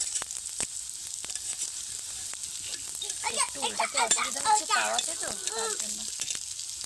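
A rice and potato tiffin snack frying in oil in a pan, a steady bright sizzle throughout with faint stirring clinks, while someone talks over it.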